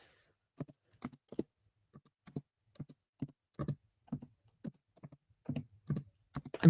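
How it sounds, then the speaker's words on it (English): Typing on a computer keyboard, a sparse, irregular patter of close, crisp key clicks in small bursts with short pauses, no talk in between. "I'm typing. Can you hear me typing?"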